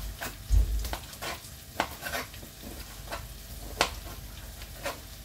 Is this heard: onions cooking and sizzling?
yes